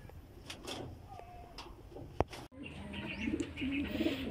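Racing pigeons arriving at a loft, with soft cooing, faint chirps and brief wing flaps over quiet background noise, plus a sharp click partway through.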